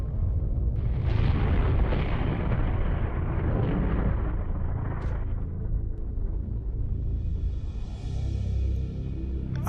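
A massive explosion in a horror video game after a plane drops something on a city: sustained, loud low rumbling roar with shockwave bursts, dense throughout, fading into a lighter hiss near the end.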